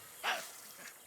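A single short, sharp bark from a Tasmanian devil, quick and fairly faint, followed by quiet.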